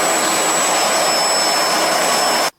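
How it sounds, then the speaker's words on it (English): A BISSELL ProHeat 2X Revolution Pet Pro upright carpet cleaner runs with a loud, steady motor whine and suction roar, then cuts off abruptly near the end. "The BISSELL ProHeat 2X Revolution Pet Pro Carpet Cleaner."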